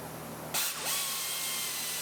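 A ratchet tightens hub bolts on the drive axle of a Chevrolet Equinox. There is a sharp, close burst of clicking, then steady mechanical noise for the rest of the moment, with no talk.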